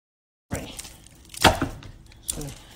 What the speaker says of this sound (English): So you must beat out all the air, beat out all the air before you fry.